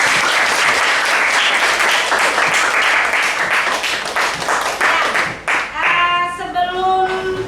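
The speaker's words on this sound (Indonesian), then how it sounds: "Kita beri tepuk tangan untuk semua." A class applauds at the end of a school lesson, loud, dense clapping that fades after about five seconds, followed by bright tonal music.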